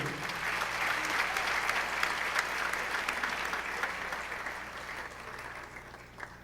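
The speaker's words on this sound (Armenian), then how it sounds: "մի հատ էլ ծափարենք" A concert audience at the Alex Theater gives steady, dense applause for a live Armenian music performance, holding at a strong level before thinning and fading slightly near the end.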